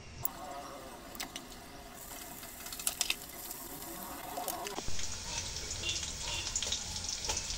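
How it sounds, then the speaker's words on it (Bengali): Onions, green chili and cumin frying in hot oil in a wok, a soft crackling sizzle that gives way to a brighter, louder hiss partway through, with faint clicks and clatter underneath. "ঝাল পেঁয়াজ একসঙ্গে ভেজে নেব"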